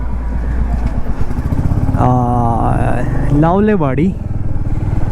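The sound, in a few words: motorcycle being ridden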